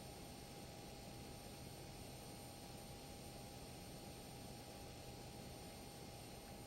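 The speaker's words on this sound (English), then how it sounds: "We'll start engine number 1." Learjet 35 engine number 1 spooling up in a flight simulator, a steady loud broadband jet roar with a constant high whine, unchanging throughout with no voices.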